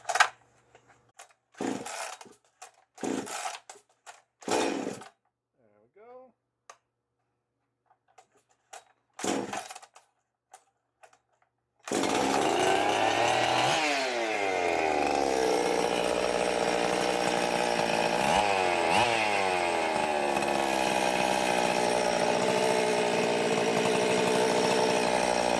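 A Jonsered chainsaw engine first gives several short pulls and sputters, then catches and runs continuously and loudly, its pitch climbing and falling as the throttle revs up and settles back to idle.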